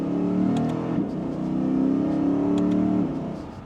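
A Lexus RC F Track Edition accelerating in second gear, its engine note rising steadily in a smooth continuous pull before easing off near the end, heard from inside the car with no talking.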